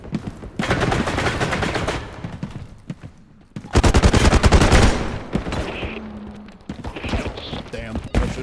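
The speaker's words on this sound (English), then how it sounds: "shooting at me from behind" Rapid automatic gunfire rattles in a video game, with long loud bursts of closely spaced shots separated by short gaps and a few scattered sounds between.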